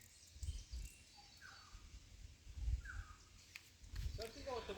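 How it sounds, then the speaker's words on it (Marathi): Faint bird calls, a few short chirps and descending whistles, drift across a quiet Konkan mango orchard, set against low muffled talk and soft rumbling nearby. "तुम्हाला असं एकदम बॅकग्राऊंडला एकदम असा पक्ष्यांचा आवाज ऐकू येतोय का"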